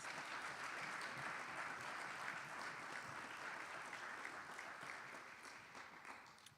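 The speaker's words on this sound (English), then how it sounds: "Let's give them another round of applause." An audience at a homecoming kickoff celebration gives a long round of steady, dense applause that sounds somewhat distant and fades slightly toward the end.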